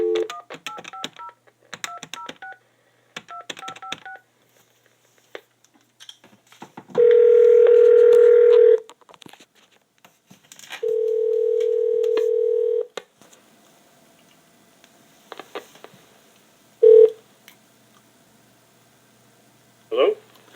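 A telephone call is dialed: quick bursts of touch-tone key beeps, then a steady dial tone, another long tone, and a brief final tone, with sparse clicks and pauses between them in a quiet room.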